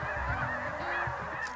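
Dense flock of geese and swans honking continuously at a wintering spot in eastern North Carolina, a steady loud chorus of overlapping nasal calls with no voices.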